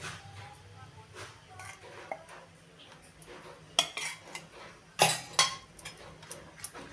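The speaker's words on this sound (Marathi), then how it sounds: "ही आता आपण अशी एक दोन तीन मिनटं चांगली मिक्स करून घेऊया" Moong dal batter for dhokla being mixed in a bowl, a spoon scraping and clinking against the sides in irregular strokes, with sharper knocks toward the end and soft talk in the background.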